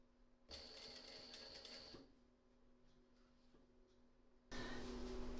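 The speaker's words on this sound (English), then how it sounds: "So I will stitch down here, from here down, and then I will stitch" A sewing machine stitches binding down toward a quilt corner in short bursts: a brief run, a pause with faint handling, then another run starting, all close and fairly quiet.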